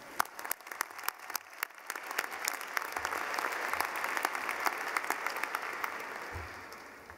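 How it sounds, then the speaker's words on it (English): Applause from a large audience at a Georgia State University winter commencement, starting as scattered sharp claps and swelling into dense, steady clapping that carries on to the end. "let's give her a round of applause now"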